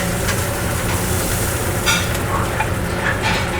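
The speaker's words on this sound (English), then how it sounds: "Look at that sizzle," An arepa of sweet plantain, cheese and chickpea flour fries on a restaurant flat top, giving a steady, loud, close sizzle that runs unbroken with no talking.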